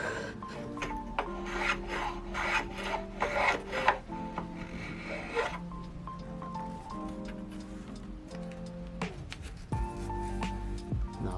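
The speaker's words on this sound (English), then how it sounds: "adding a small chamfer as a detail to the inside of the" A small chamfer is cut along the inside edge of a mitered wooden frame, giving close, repeated scraping and rasping strokes in uneven bursts, with tonal resonance between passes.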